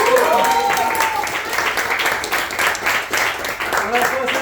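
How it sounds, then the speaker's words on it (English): An audience at an improv comedy jam applauds for the instructor, dense clapping running throughout beneath a person talking loudly over it. "let's give a big round of applause for his instructor"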